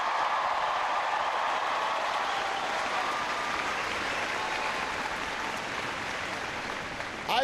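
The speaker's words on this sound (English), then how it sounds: "Please give Daniel a big round of applause for that great introduction" Sustained applause from a university crowd at a Barack Obama speech in Boulder, steady and dense clapping for several seconds, with a brief louder burst at the very end.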